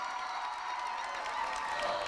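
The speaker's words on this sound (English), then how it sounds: "give a big warm round of applause to Eilish and Parik" A dance-competition audience at a club dancing final claps and cheers for a couple of dancers, a short, fairly distant wash of applause with no talking.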